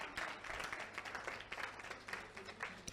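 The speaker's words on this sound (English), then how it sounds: "Or you can clap if you want to." A short burst of audience clapping during a counseling talk, scattered claps from a crowd, fairly faint and uneven.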